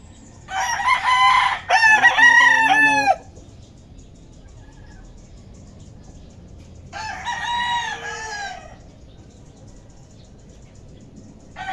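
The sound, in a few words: chickens and roosters in backyard chicken coop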